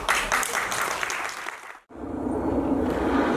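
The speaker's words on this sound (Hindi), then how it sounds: "कलाकारों को पूरा सम्मान दें, तालियों की गड़गड़ाहट के साथ।" A theatre audience at a play during an annual theatre festival claps for the actors, dense applause that breaks off briefly and then resumes at a steady level.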